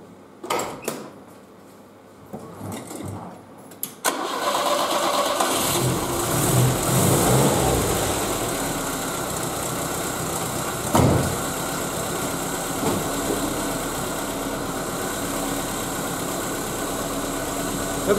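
Car engine started while a voltage check is being run on the alternator: a few quiet clicks and cranking, then the motor catches and settles into a steady, close, continuous idle rumble with a slight rev.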